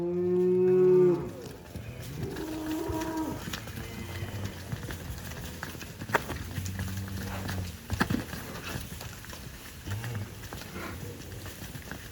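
Cattle at a livestock sale moo repeatedly, several long low calls spread across the scene, mixed with hoof clatter and general farmyard movement; a person speaks briefly in the background.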